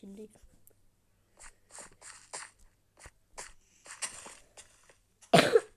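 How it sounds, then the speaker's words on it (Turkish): A person coughs several times in short, dry bursts spaced across the stretch, close and fairly quiet, ending in a louder harsh cough, with brief breathy vocal sounds between. "biraz öksürüyorum kusura bakmayın"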